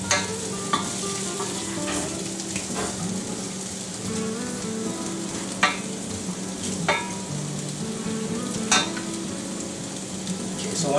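Food sautéing in a hot pan, stirred with a wooden spoon: a steady sizzle with scattered sharp knocks and scrapes as the spoon moves through the pan, close and moderately loud.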